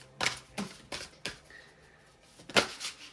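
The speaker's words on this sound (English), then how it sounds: "let me fix that and then shuffle" A deck of cards is shuffled in a handful of quick, crisp riffling bursts spaced by short pauses, close and moderately quiet, with no talk.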